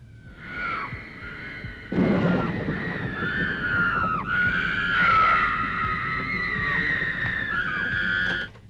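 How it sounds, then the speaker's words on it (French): Halloween scream sound effect: a string of shrill, wavering, high-pitched screams layered with a low rumble, loud and continuous for about eight seconds with no talk. "Numéro 9. Les cris."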